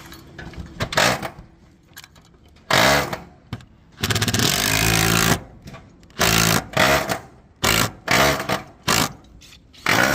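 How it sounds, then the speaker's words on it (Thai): A power tool drives bolts into solar panel mounting clamps on a 5 kW three-phase on-grid rooftop array, with loud close whirring bursts repeating about eight times, separated by short pauses and faint clinks. "เสร็จแล้วก็ยึดน็อตลงไปครับ"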